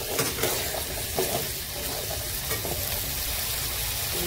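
Potatoes sizzle steadily while frying in a pan, salted and stirred, with a dense close crackle and soft scraping stir strokes throughout and no talking.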